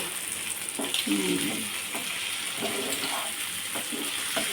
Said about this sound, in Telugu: ఫ్రై అవుతా ఉన్నాయి